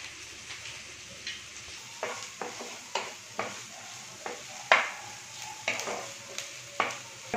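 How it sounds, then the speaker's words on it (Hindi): Onions and capsicum fry in a pan with a steady sizzle while a spatula scrapes and knocks in repeated sharp strokes, about one every half second, close and clear with no talking. "प्याज आधा सिक गए, शिमला मिर्च भी सिक गए।"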